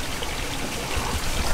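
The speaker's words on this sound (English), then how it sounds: "I'm just gonna acclimate them with a slight drip system" A slight drip system runs aquarium water into a container holding tiger catfish for acclimation. The result is a steady, close, even trickle and patter of falling water, with no voices.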